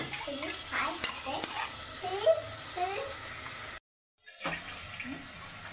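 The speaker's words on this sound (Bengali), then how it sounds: "ওদিকে মশলা কষানো হচ্ছে" Masala spice paste frying in a pan as it is stirred, soft sizzling with scraping strokes of the spoon, along with running water from a tap nearby, a brief dropout midway, and a voice speaking faintly in the background.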